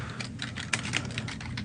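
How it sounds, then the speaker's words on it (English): Several people type on computer keyboards at once, a quick patter of clicks lasting under two seconds with no talk. "Everybody, just typing away."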